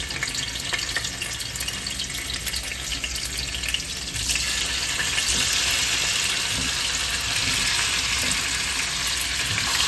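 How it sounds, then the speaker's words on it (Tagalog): Dense, crackling sizzle of tofu frying in hot oil, growing louder and brighter partway through, close up with no talking. "painitin natin ang mantika, oil, and then lalagay na natin yung tofu."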